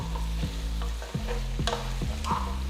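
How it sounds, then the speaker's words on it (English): Potato pieces and onions sautéing in a pan with ginger, garlic and green chili paste, a soft sizzle broken by regular scraping strokes of a spoon being stirred, close up and with no voices. "Saute it along with the onions. Next, add the potato pieces. Mix it well."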